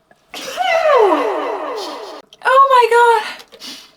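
A voice lets out a long, drawn-out sneeze with a falling, wavering pitch, followed after a short gap by a second vocal burst.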